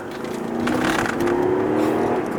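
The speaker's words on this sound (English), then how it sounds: "the rattling is the number plate" A Porsche Panamera 4S accelerating hard, engine note rising steadily with a loose number plate rattling and buzzing over it, close and continuous.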